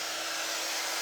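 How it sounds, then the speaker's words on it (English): A small handheld hair dryer blows steadily over a freshly chalk-painted wooden frame, giving a loud, even, broadband whoosh that fills the whole moment with no talking. "take my little dryer, okay, and I just like to dry it"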